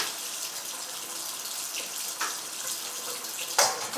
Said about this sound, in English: I've got water, cold water running in a drainer.